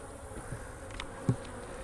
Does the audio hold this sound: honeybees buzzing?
yes